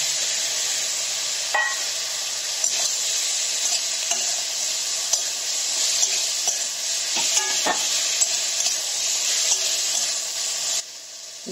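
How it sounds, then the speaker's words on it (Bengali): Chicken pieces fry in a pan with salt and oil while being stirred, a loud continuous sizzle broken by scraping and clinking of the spatula against the pan, close up, ending with a quieter sizzle. "নুন দিয়ে ভালো করে নেড়ে চেড়ে এবার চিকেনগুলো দিয়ে দেবো।"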